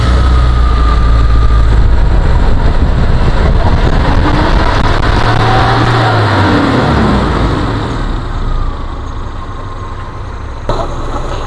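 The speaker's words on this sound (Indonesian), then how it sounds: "Nah, ini kondisi suara mesin stasioner." A 1999 Suzuki Sidekick engine idles steadily up close, a continuous low mechanical hum with a brief lift in pitch midway before settling back into an even idle.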